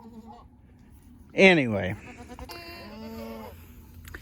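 A single loud, close goat bleat from a pregnant doe being prepped for kidding season cuts through a farmyard, with a person talking before and after it.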